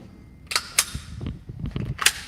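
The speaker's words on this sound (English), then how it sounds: "So this is the first shots." A new Sig Sauer 365 XL pistol fires its first shots as several sharp, snappy cracks at an uneven pace, with some softer clicks and thumps of handling between them.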